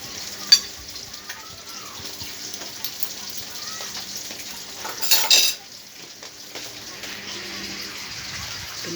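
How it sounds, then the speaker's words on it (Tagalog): Food frying in a home kitchen pan, a steady low sizzle running throughout with a few clinks of utensils and a brief louder clatter midway. "Pinirito natin."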